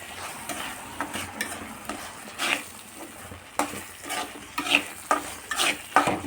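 Okra gojju bubbles and sizzles in oil in a pan, with steady frying hiss broken by repeated scraping stirs of a utensil, close and fairly loud, with no talking.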